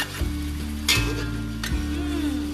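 Boiled, blended shrimp chili paste is stir-fried in a pan, giving a steady sizzle over a low hum, with two sharp scraping strokes of the spatula, close and moderately loud, and no speech.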